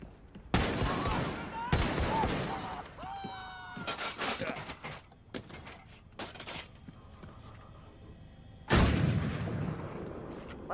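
Sharp bursts of gunfire and heavy blasts ring out in several clusters in Wolfenstein II: The New Colossus, with mechanical clanks and whirs in between and a loud final volley.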